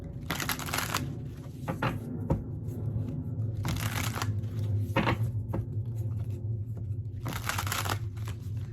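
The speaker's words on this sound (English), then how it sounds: "I want to just pull some oracle cards about the connection" Oracle cards being shuffled by hand: three crisp riffling bursts at roughly even intervals, with softer handling sounds between them over a steady low room hum, close and fairly quiet, with no voices.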